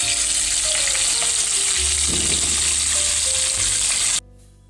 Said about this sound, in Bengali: মাছটা ভাজার জন্য কিছুটা সর্ষের তেল গরম করে নিচ্ছি